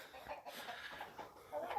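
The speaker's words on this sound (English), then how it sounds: "And we're growing chickens in the greenhouse." Chickens in a greenhouse cluck softly in short, scattered bursts, fairly faint and close, with no voices over them.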